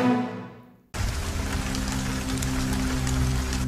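A heavy downpour of rain bursts in abruptly after a fading tonal sound, then pours as a thick, continuous hiss with a faint low hum beneath, with no one talking.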